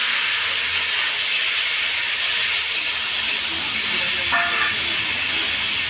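Black cumin, green chilli and pineapple hitting hot oil in a pan, a loud, steady hiss of sizzling that fills the moment without pause.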